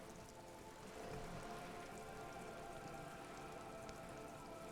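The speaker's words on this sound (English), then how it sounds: "rain keeps falling down on the wooden board she's standing on and on the water around you" Steady rain falls on wooden boards and surrounding water in the game Disco Elysium, a constant soft patter of drops hissing evenly throughout, faint and unbroken.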